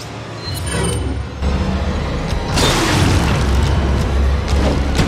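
Heavy gunfire from a newly acquired gun in the video game Resident Evil 4, loud booming blasts with rumbling low end that swell into a dense, sustained barrage.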